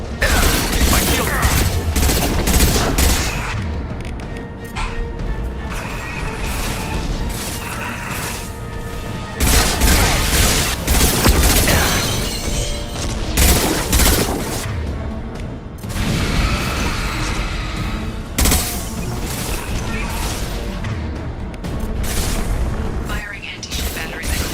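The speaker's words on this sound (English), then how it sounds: "Firing anti-ship batteries at collector vessel." Anti-ship batteries firing at a collector vessel in a video game, loud repeated heavy blasts and mechanical clanks in dense bursts over game music and effects, with breaks between volleys.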